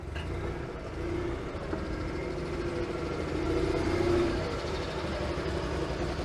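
An Invacar's engine runs steadily as the little invalid carriage is driven in, a continuous low rumble that swells slightly toward the middle, with no talking.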